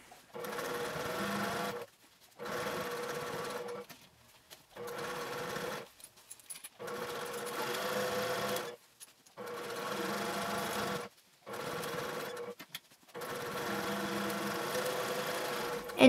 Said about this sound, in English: take it over to your sewing machine and top stitch 1/8 inch on the flap side